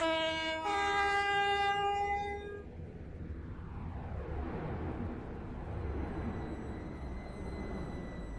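A Stepford Connect train in a video game sounds a loud two-tone horn at a station, then rumbles past steadily for several seconds with no talking.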